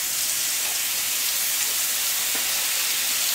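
Pork chops sizzling in herb-infused olive oil in a pan, a steady loud hiss and crackle of frying that continues without a break and has no voices over it.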